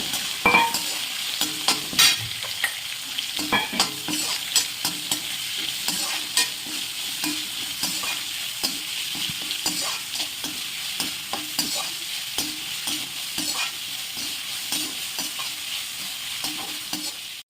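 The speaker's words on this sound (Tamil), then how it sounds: "வெங்காயம் வதங்கிறதுக்கு கொஞ்சம் உப்பு போடுறேன்" Onions and curry leaves sauté in a pan, a continuous crackling sizzle broken by regular scraping strokes of a stirring spoon, close and moderately loud, with no voices.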